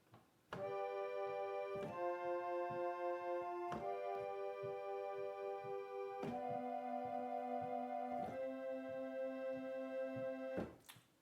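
A 1914 Mason & Hamlin reed organ plays sustained chords on a stop with paired reeds tuned slightly sharp and flat, giving a wavering, beating shimmer, harmony changing every couple of seconds, soft and steady.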